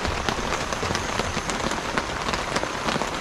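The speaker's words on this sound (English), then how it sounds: "It's raining." Heavy rain drumming steadily on a surface nearby, a dense continuous patter with no voices.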